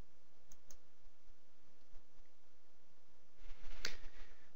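A computer mouse clicks: a handful of faint, sparse single clicks over a quiet room, then a louder, busier cluster of clicks near the end.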